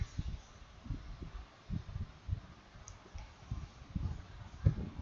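Computer mouse buttons click repeatedly while a photo is edited, saved and renamed on screen. The clicks are quiet and close, scattered at an uneven pace, with no talking.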